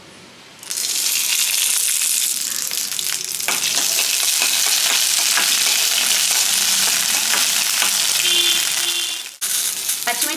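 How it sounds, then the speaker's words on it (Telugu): Green chillies fry in a spoonful of oil in a kadai, giving a steady, loud sizzle that starts sharply after a quiet moment and runs throughout, with a brief break near the end. "ఒక చిన్న టీ స్పూన్ అంత నూనె పోసుకొని ఫ్రై చేసుకుందాం."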